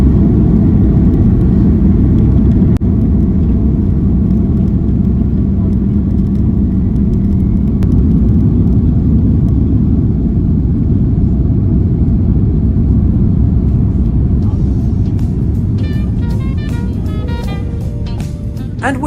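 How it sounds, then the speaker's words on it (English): Airliner taking off from a JFK runway, heard from inside the cabin as a loud, steady engine roar and rumble that persists throughout with no break, easing slightly near the end. "As we're now entering the runway, it is now time to take off from JFK as we head back to the UK."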